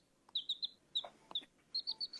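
A chicken clucks in quick, short repeated bursts, two clusters of three and a single call between, fairly close and with no talking.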